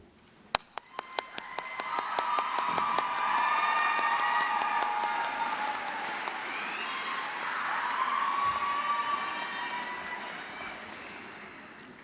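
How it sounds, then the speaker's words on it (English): An audience at a Macomb Community College commencement ceremony applauds faculty and staff, a broad wash of clapping that swells, holds and slowly fades, heard at a distance with a few sharp claps at the start. "Will the distinguished representatives of our faculty and staff stand so that we can recognize your contributions with applause"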